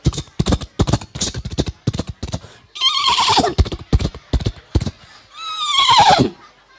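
A voice imitates a horse neighing in two long, wavering whinnies at a religious gathering, with loud clicking clip-clop-like sounds around them; no other talk.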